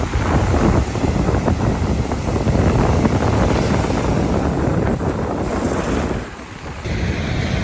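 Ocean waves breaking at Little Batanes on Jomalig Island, a steady loud roar of surf mixed with wind buffeting the microphone, dipping briefly near the end before swelling again.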